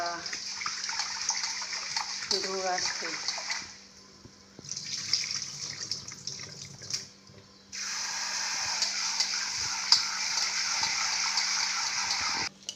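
Water runs steadily from a tap as food is rinsed, stopping and starting twice, with a brief spoken remark and soft handling sounds between.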